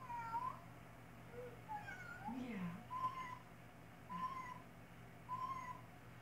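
A cat meows repeatedly, a string of short, fairly faint mews spaced about a second apart, with one lower drawn-out cry in the middle, over quiet background hum.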